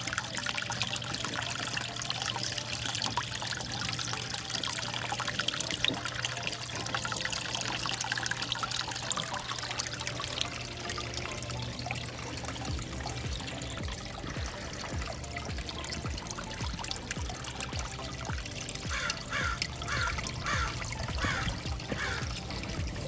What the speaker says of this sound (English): I love that moving water.